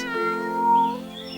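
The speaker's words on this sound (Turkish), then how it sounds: "Dolaşırken bahçede ufak bir kedi yavrusu görmüşler." A small cartoon kitten gives a single drawn-out, high meow, close and clear, with nothing else audible.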